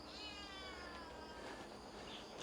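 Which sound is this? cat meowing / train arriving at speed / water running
cat meowing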